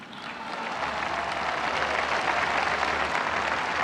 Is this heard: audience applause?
yes